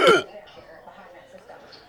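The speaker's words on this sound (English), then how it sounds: "I got the hiccups and the burps." A person lets out a single short, loud hiccup or burp at the start, followed by quiet low murmuring and faint room noise.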